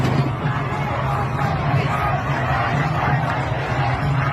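A street crowd gathers during a protest in Najafabad, Iran, making a continuous dense hubbub of many indistinct voices at a distance, with no single speaker standing out.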